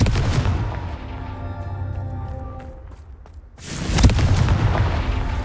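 A Confringo blasting spell in the game Hogwarts Legacy erupts in a heavy booming explosion, with a rumbling tail fading away before a second loud, crackling blast bursts in.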